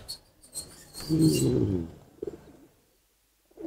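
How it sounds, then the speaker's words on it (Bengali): A purple-black pigeon, one of a pair of restless show pigeons, gives a close, fairly loud coo in the middle of the stretch, followed by a few softer bursts and quiet pauses. "একটা বেগুনি কালা কবুতর"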